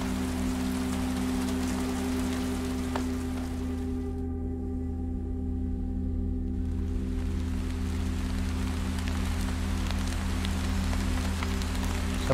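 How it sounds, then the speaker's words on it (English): Steady rain falling in the video game Chasing Static, a constant hiss of drops alone at moderate level, briefly thinning in the middle before resuming. "Just have a nice stroll in the rain."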